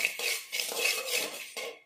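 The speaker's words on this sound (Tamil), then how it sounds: "கடலைப்பருப்பு வறுத்துக்கிட்டு இருக்கேன்" Chana dal dry-roasting in a pan, stirred with a utensil that scrapes and rattles against the metal in steady, close strokes with brief pauses, and no voices.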